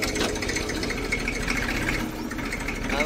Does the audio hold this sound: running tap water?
no